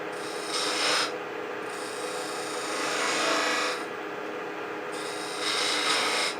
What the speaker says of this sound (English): Then I'm going to come in here with probably a skew, I think, and make a V cut